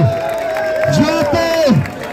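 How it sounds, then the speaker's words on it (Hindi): At a political street rally, a crowd cheers and shouts beneath a loud voice, with scattered whoops and clapping rising in bursts. "एक बार हाथ उठा के अपने लिए तालियां"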